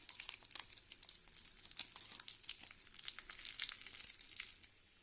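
Almonds frying in a pan, a faint, continuous bright crackling sizzle with dense tiny pops throughout and no talking.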